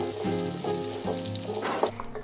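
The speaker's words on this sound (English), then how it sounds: "over medium heat, I'm going to warm up a tablespoon of butter and some olive oil" Butter and olive oil warming in a pan over medium heat, a soft steady sizzle and crackle running throughout, close and moderately quiet, with a brief louder pop near the end and no talking.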